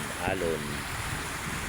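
Ocean waves at Manila Bay wash in a continuous, windy surf hiss with buffeting wind noise on the microphone, while someone speaks briefly near the start.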